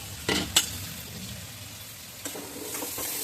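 Potatoes fry with spices for aloo dum, a soft steady sizzle broken by a few sharp clinks and scrapes of stirring at the start and again later, with no one talking.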